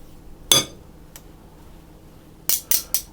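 A whisk, just used to beat cream to stiff peaks for no-churn mint chocolate ice cream, shaken and knocked against a bowl: one sharp metallic clink, a faint tap, then a quick burst of four ringing knocks, close and loud.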